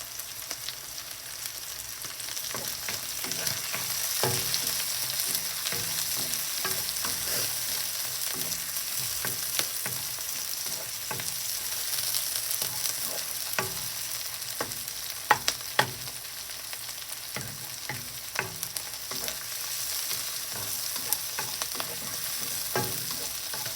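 Tomatoes fry in a pan with a continuous quiet sizzle, and a spoon scrapes and clicks against the pan many times in an irregular rhythm.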